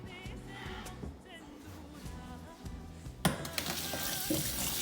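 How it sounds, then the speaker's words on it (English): Tap water runs steadily into a kitchen sink while raw chicken pieces are rinsed for a spicy chicken curry, with a faint voice briefly in the background and the splashing growing louder toward the end. "now I am going to wash the chicken"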